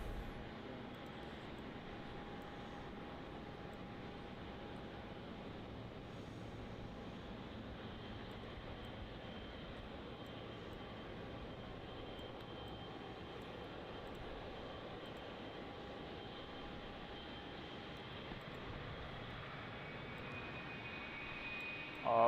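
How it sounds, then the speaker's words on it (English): A Jetstar Boeing 787 lands on runway 34 at Melbourne Airport, heard as a faint, steady, distant engine rumble throughout with a thin whining tone. "Let's get that 787 touching down on runway 34."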